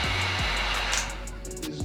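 A heat gun blows a steady, loud, close airflow hiss while heating a vinyl grip skin on a Glock 19 pistol frame, continuous with slight fluctuations and no talking.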